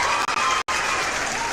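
Clapping during a live stream thanking viewers, a close, steady patter of hands broken by a couple of brief gaps and one short silence partway through.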